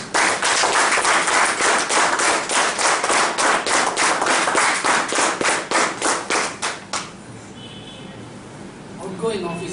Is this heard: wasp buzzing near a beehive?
no